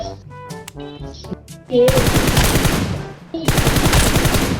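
PUBG Mobile automatic gunfire rattles in two loud, sustained bursts, preceded by some scattered electronic tones and a voice.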